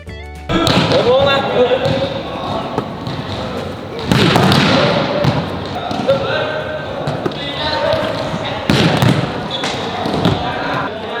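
Volleyball setting and spiking drills at practice, with repeated sharp slaps and thumps of the ball against hands and the floor echoing in a gym, one after another over constant background noise.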